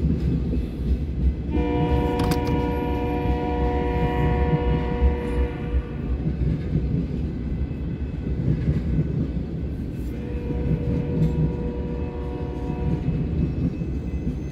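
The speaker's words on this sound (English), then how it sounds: "and it's that northbound unit train. I call it an Ashland, going north, and it is empty ethanol." A northbound empty ethanol unit train rolls steadily past, its deep rumble continuous throughout, while the horn sounds in two long blasts, the first near the start and a second later on.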